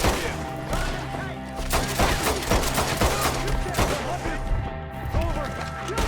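Gunfire in the Western video game Red Dead Redemption II, with dense, rapid volleys of loud shots cracking repeatedly over a continuous rumble and shouting voices.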